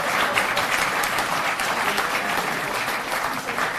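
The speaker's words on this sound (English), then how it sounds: "One other quick round of applause for Kathleen Nealon and Julianne Thompson for pulling this thing together." A crowd at a high school football banquet claps steadily and loudly in a sustained, dense wave of applause filling the room, with no break and no voices standing out.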